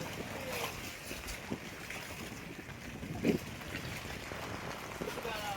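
Steady rain patters over a wide river in the Sundarbans, a soft continuous hiss with scattered drops and a brief louder splash.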